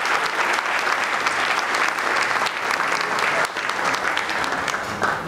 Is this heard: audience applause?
yes